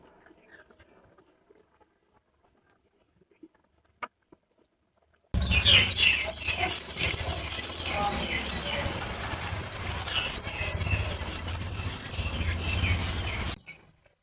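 Malpua frying in a pan as a Janmashtami offering, turned with a spatula: a loud, dense sizzle starts abruptly after a quiet opening, holds steady for about eight seconds, then cuts off.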